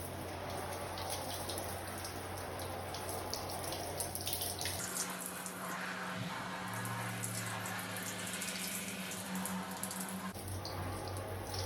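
A handheld shower head sprays water steadily onto a shirt, a continuous close hiss and patter whose tone changes partway through as the spray shifts, with no talk.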